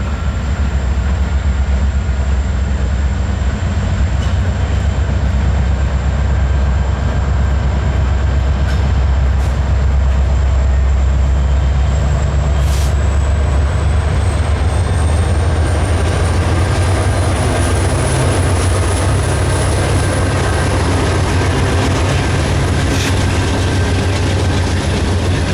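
An intermodal freight train on a Norfolk Southern and KCS line rolls past for the full stretch, a loud, continuous rumble of wheels and cars with steady clatter and a high whine rising partway through.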